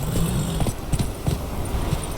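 Trotting horse hooves in The Witcher 3, a few close, distinct clops in an uneven rhythm against a low background hum.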